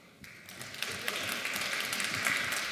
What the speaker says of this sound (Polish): Wielkie brawa, wielkie brawa.